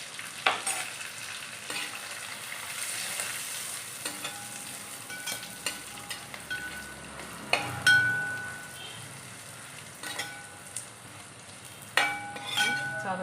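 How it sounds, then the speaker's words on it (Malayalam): Onions frying in a pan for a beef roast, with curry leaves and chili flakes added. A steady sizzle runs throughout, broken by stirring scrapes and occasional sharp clinks of utensil against pan. "നമ്മുടെ ഉള്ളിയൊക്കെ നന്നായിട്ട് മൂത്ത് വന്നിട്ടുണ്ട് അതിനകത്തേക്ക് നമുക്ക് കറിവേപ്പില ഇട്ട് കൊടുക്കാം"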